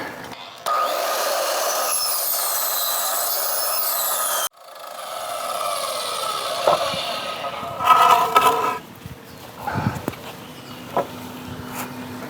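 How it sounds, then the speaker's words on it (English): Wooden 2x4 posts are cut to length with a saw, giving a loud continuous rasping drone that breaks off, then a quieter stretch of sawing and scraping with a few knocks and rattles. "the post 2x4s have been cut to length"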